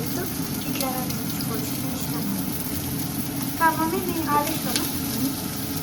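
Onions fry in a pan until browned, a steady dense sizzle holding at an even level with faint scraping stirs and a few brief tonal clinks over it.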